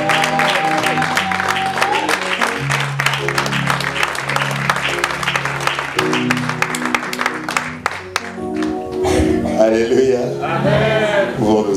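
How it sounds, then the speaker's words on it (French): A church congregation acclaiming the Lord, loud cheering and applause rising over music and a voice, with crowd shouts and clapping building toward the end. "Et on acclame pour le Seigneur de gloire"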